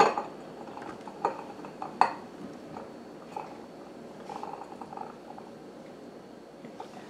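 Blanched acorn or butternut squash pieces are set by hand into a glass canning jar with a pat of butter, giving a few soft clinks and taps against the glass amid quiet handling noise, close and faint.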